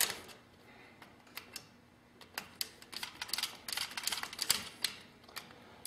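A screwdriver tightens the wire terminal screw on a 20-amp circuit breaker, giving a quiet, irregular run of small close clicks and ticks with no talking.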